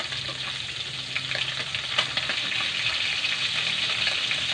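Food frying in a pan at home, a steady soft sizzle with faint scattered crackles and an occasional stir, continuous and fairly quiet throughout.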